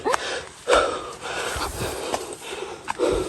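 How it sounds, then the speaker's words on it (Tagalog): A cameraman pants heavily after climbing a steep stairway on a farm, giving close, ragged breaths and wheezy gasps in a repeating rhythm. "Hinihingal na siya sobra."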